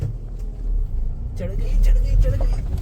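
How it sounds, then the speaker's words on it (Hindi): Tata Punch car straining up a very steep slope in first gear, a steady low engine rumble that builds toward the end while people talk over it. "चढ़ गई भाई, 1 गो में चढ़ गई भाई, इतनी खड़ी चढ़ाई।"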